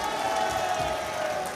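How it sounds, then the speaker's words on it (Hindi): A large crowd applauding and cheering at a political rally at Ramlila Maidan in Ashok Vihar, Delhi, a dense, steady wash of clapping and voices at a distance that holds throughout. "इस बात पे एक बार जोरदार ताली बजाइए"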